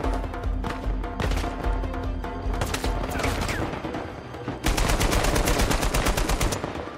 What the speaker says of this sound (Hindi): वो छत पे से गोलियां बरसा रहा साला, उसे और कैसे लूं?